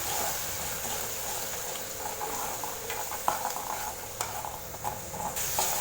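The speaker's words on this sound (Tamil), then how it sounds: "சேர்த்துட்டு வெங்காயத்தை நல்லா வதக்கி வச்சுருக்கேன்" Small onions sauté in hot oil in a pan with a steady, moderate sizzle and hiss, while faint stirring scrapes and clicks come through near the end.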